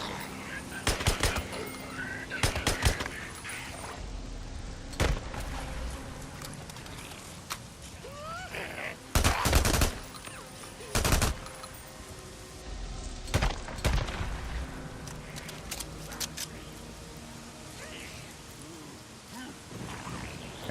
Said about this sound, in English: SMG and assault rifle's doing the job